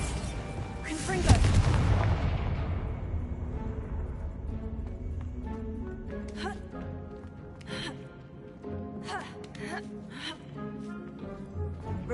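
Spell blasts from Hogwarts Legacy combat: a sharp explosive boom near the start with a rumbling tail, followed by ongoing crackling impacts and magical effects over a dense game soundtrack, with shouted incantation voices.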